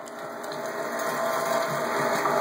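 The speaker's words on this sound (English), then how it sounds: "we're going to fire up the grinder and get this all ground" An electric meat grinder runs continuously while grinding pork, a steady mechanical whir and gritty rattle at moderate level, close by and alone.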